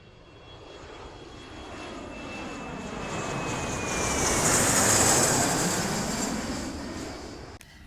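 Airplane engine roar swells steadily to a loud broad whoosh near its peak then eases off slightly, a continuous pass-by drone with no talk.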